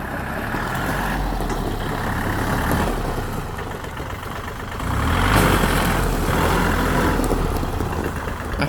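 A Kubota L1-225 three-cylinder four-wheel-drive tractor runs with a steady diesel chug close by, its engine rising in loudness partway through and holding at a firmer, heavier drone.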